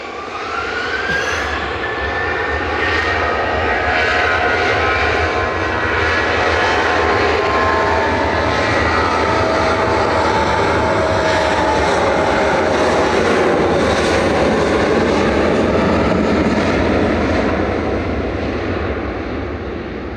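A Royal Air Maroc airliner departing Manchester Airport for Casablanca roars steadily with loud, sustained engine noise and a rising whine, swelling as it climbs and passes, with no voices.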